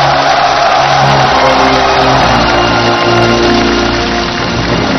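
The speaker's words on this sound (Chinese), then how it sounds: "我们掌声欢迎他" A stage audience at a military concert greets a soldier with a steady wash of clapping and crowd noise, loud and continuous for several seconds, with music-like tones running underneath.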